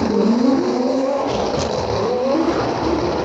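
Loud BMW M4 race cars roar past close by, a dense blend of revving and tire noise that swells and holds.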